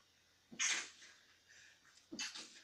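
Two sharp sneezes, each with a quick intake then a bright burst, about one and a half seconds apart in a quiet room.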